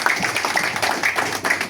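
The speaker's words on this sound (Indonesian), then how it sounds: "Jadi saya minta tepuk tangan untuk kita semua juga" A community gathering with the regent in Bali claps together in a crowded room, producing a lively, uneven patter of many hands at moderate loudness, with faint voices mixed underneath.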